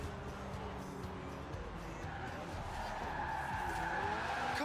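Tyres skid and squeal as a car brakes hard into a corner in the racing game Forza Horizon 4, a continuous screech over a steady engine roar that stays loud throughout.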